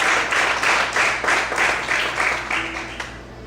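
Church congregation clapping in a steady, rhythmic pulse, roughly two beats per second, sounding full and reverberant before fading out at the end.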